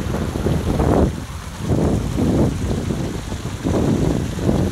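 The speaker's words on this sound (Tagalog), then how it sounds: "Ang lakas ng tubig," Strong, steady rush of water from a city fountain at the Rotonda roundabout on Piazza Amendola in Bologna, heard outdoors and close with wind buffeting, a continuous loud spray that swells and dips without pause.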